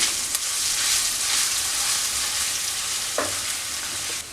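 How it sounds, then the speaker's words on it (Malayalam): A tablespoon each of crushed ginger and garlic frying in hot oil, a dense, loud, steady sizzle with faint stirring scrapes and a soft clink near the end. "എണ്ണ ചൂടായി വന്നിട്ടുണ്ട് അതിലേക്ക് ഒരു ടേബിൾ സ്പൂൺ ഇഞ്ചി ചതച്ചത് ഒരു ടേബിൾ സ്പൂൺ വെളുത്തുള്ളി ചതച്ചത്"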